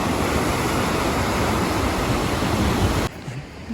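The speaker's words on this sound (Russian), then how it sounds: "Разбушевался океан." Stormy Pacific Ocean surf off the Chilean coast near Viña del Mar and Valparaíso, a loud continuous roar of crashing waves that cuts abruptly to quieter ambience near the end.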